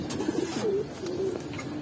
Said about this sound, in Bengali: খুবই সুন্দর চোখের কবুতর।